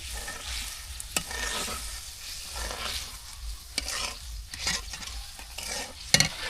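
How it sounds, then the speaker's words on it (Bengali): Fish curry with green banana is stirred in a pot over a clay stove in a village kitchen, with steady scraping strokes over a continuous frying sizzle and a few sharp clinks of the spoon. "আর এখন একটু নাড়াচাড়া করে নিই।"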